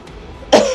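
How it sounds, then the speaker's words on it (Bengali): A single sharp cough from a person with a sore throat, loud and close, following a quiet moment. "কাশি হয়েছে, গলা খারাপ"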